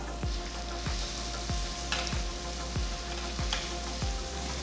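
Ginger, garlic, green chilli and onion fry in a pan with a steady sizzle, and occasional stirring knocks come at a regular rhythm. Nobody speaks.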